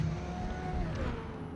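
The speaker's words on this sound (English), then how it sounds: "There's another car that passes me, so now I'm back to 9th place." In Forza Motorsport, an R-class race car sweeps past on the Suzuka circuit, a faint continuous engine whine and road rush that swells slightly, heard alone without talk.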